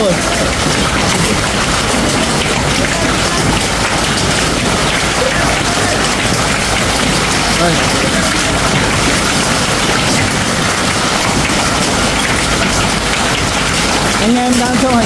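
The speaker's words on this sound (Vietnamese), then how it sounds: "Mưa đá to khủng khiếp luôn." Heavy hail near the Vietnam border in Nghe An drums hard and continuously on a surface, a loud, dense clatter throughout with a faint voice near the end.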